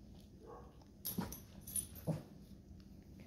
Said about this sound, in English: So that dog's barking right now.